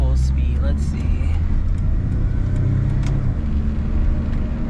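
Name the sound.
Mitsubishi Minica kei car driving through a turn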